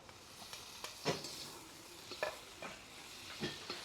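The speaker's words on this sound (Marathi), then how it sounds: "टमाटा एक दोन मिनिटासाठीच परतून घ्यायचा आहे कारण टमाटा लगेच शिजतो" Tomatoes with brinjal and dried prawns sauté in a pan, giving a faint, steady sizzle broken by a few distinct stirring scrapes and clinks of a spoon against metal, with no voices.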